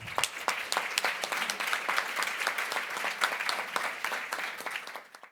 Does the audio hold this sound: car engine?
no